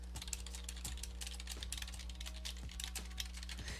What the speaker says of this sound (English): I'm typing this in here.